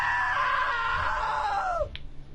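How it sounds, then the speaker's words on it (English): A long, loud scream from a character in the video game What Remains of Edith Finch, a sustained tonal wail that slowly falls in pitch before cutting off abruptly, followed by a brief thud. "Now that was a great scream."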